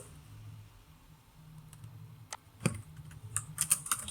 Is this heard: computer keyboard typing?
yes